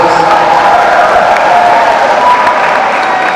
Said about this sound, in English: A very big round of applause for yourselves.